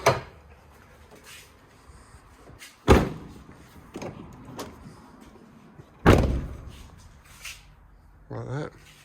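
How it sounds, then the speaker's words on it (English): The rear door of a Toyota FJ Cruiser swinging shut over a fridge slide, giving two heavy, close thumps a few seconds apart amid lighter clunks and rattles, with a voice briefly heard. "the door does close as well"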